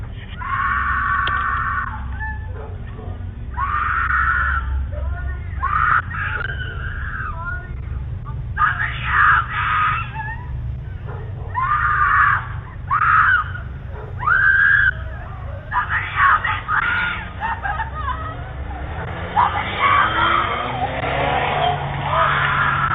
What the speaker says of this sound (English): Her screams seem to get further and further away as the car drives off